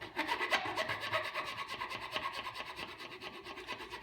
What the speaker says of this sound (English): just take a flat file and clean up the edges